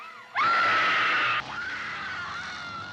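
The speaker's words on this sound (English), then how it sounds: "Cross your eyes and scream, man. Scream for your life." A loud, sustained high-pitched scream that breaks off abruptly, followed by a quieter wavering cry.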